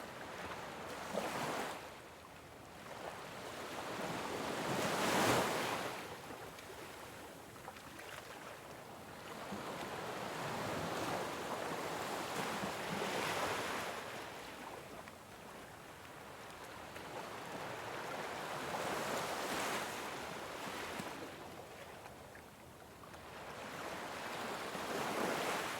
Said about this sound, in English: Feel the ocean sounds washing over you, bringing comfort and stillness.